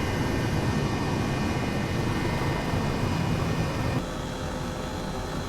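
Airbus H135 helicopter in the video game Microsoft Flight Simulator, a steady, loud broadband rotor and turbine roar that holds level, then drops slightly in volume near the end, with no one speaking.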